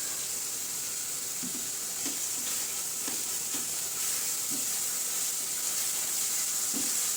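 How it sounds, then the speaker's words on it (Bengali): Spice paste fries in oil for a prawn curry with a steady, dense sizzle and hiss, punctuated by a few soft stirring knocks, alone and close. "মশলাটা ভালো করে কষিয়ে নেই।"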